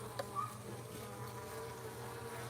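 Feral bees buzz steadily and close up for the whole stretch, a dense layered drone with a few sharper wing whines passing near, as they gang up to sting an intruding bee.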